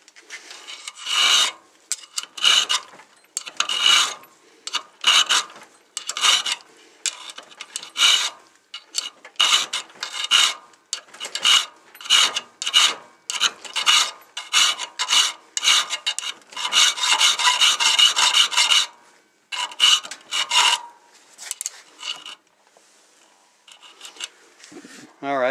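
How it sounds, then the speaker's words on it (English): A large quarter-inch hand file rasps along the profile of a knife blade in steady, repeated back-and-forth strokes, close and loud, with brief pauses between runs. "now we're ready to switch to the big file, which isn't that much bigger"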